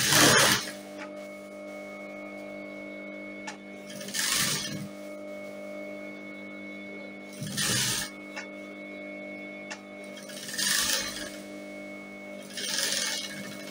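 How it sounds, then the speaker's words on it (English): Sewing machine stitching a strap onto fabric for an off-shoulder puff sleeve, a steady mechanical drone with several short bursts of louder whirring, near and alone. "and then I will stitch."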